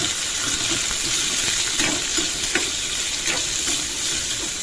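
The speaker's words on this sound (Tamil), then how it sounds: "இப்போ வெங்காயத்தை போட்டேன். அது கூடவே கொஞ்சம் சட்னிக்காக உப்பையும் போட்டுக்கிறேன்." Onions frying in a pan with salt for a chutney, giving a steady close sizzle throughout with a few soft stirring scrapes and clicks, no voices.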